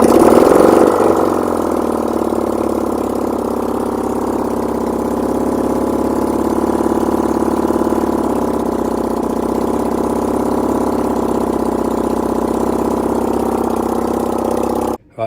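A Honda VFR400 NC30 motorcycle engine idles steadily with no exhaust fitted, a close, continuous, even mechanical drone with a dense low rumble that holds level for the whole stretch before cutting off abruptly at the end.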